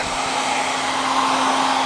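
A heat gun warming the adhesive on a tank badge blows a constant, steady whine with a fixed hum underneath, close and loud, with no talk.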